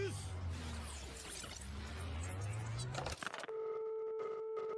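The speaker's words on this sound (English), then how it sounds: "It's like dial-up internet" Anime sound effect resembling dial-up internet from JoJo's, a dense warbling electronic screech with shifting tones that cuts off abruptly into steady beeping tones, loud throughout with no talking over it.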